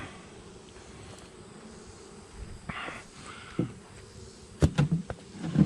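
Honey bees buzz faintly in the background, with knocks and clunks of a wooden beehive box being handled close by while honey frames are pulled.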